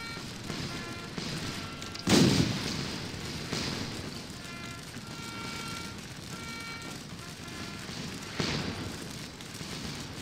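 Artillery fire in the Waterloo battle game Scourge of War, two distinct booms several seconds apart over a constant rumbling battlefield din, with someone talking at times.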